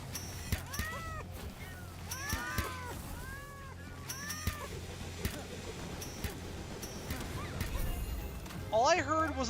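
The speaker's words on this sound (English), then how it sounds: "I heard a bunch of like meowing and various like noises" A cat's meows rise and fall repeatedly amid clatter, crashes and assorted game-like noises, fairly faint and mixed with other sounds.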